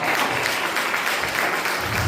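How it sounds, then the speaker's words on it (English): Steady applause from a church congregation fills the whole short stretch, a dense wash of clapping at constant volume with no pauses. "Y'all clap there right there."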